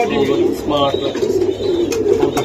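Racer pigeons coo nearby in loud, throaty, rolling calls that overlap and repeat continuously, with brief fluttering and scuffing sounds mixed in.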